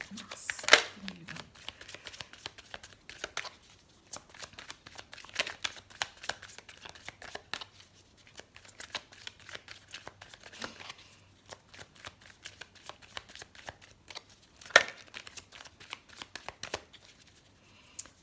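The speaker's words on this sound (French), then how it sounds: "Alors, on va couper le jeu." A Lenormand oracle deck is shuffled by hand with close, crisp riffling and flicking of cards in repeated bursts and short pauses, with faint background noise.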